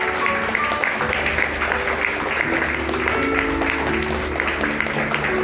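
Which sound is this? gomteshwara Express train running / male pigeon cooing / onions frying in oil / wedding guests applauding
wedding guests applauding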